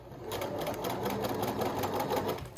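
A sewing machine edge-stitches the crown of a bucket hat, giving a steady, close, continuous mechanical whir that runs unbroken from start to finish.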